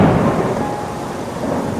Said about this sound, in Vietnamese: Một tiếng sấm rải lan trên bầu trời